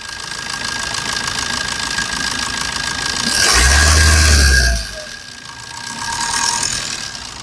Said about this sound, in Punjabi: ਪਹਿਲਾਂ ਤਾਂ ਸਾਊਂਡ ਸੁਣ ਲਈਏ ਆਪਾਂ ਬੇਟਾ ਗਲੋ ਪਲੱਗ ਲਾ ਕੇ ਸਟਾਰਟ ਕਰੀਏ